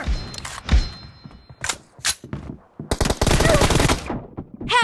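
Assault rifle fire in a PUBG team deathmatch room match: close, loud bursts of rapid automatic shots with thumps in between, then a long sustained burst near the end.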